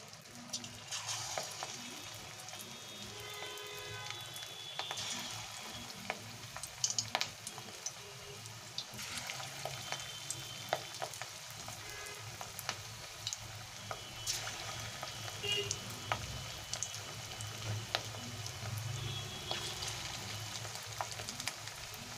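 Fish roe fritters frying in hot oil in a wok, a steady bubbling sizzle with sharp crackles and occasional stirring clinks throughout.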